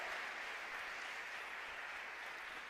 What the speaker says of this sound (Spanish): Ahora sí le damos un fuerte aplauso a Cristo.